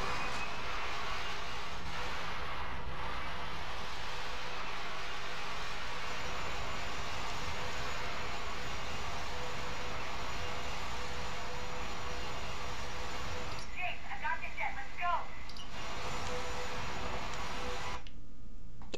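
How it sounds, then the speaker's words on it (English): A jet aircraft roars past in the video game Agent Under Fire, a loud continuous broadband rush that holds steady for most of the stretch before briefly dropping away near the end, with a short spoken exclamation at the start. "Okay, just random jet for no reason."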